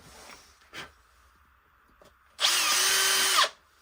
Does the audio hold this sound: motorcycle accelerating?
no